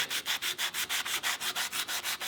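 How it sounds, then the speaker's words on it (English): A wooden hand-plane tote is sanded with abrasive in quick, even back-and-forth strokes, about a dozen rhythmic rasping passes close up, with no talking. "Certain point we start using the abrasive"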